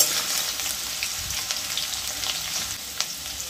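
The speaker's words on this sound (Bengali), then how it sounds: "আলুটা আমি সামান্য ভেজে নেব" Potato pieces fry in oil in a pan for a sajne data recipe, a close, steady hiss and crackle with a few small pops and occasional stirring.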